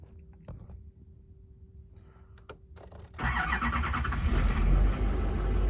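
A quiet hum and a few clicks, then a GM Duramax diesel truck engine cranks and catches, settling into a loud, rough, steady idle close by.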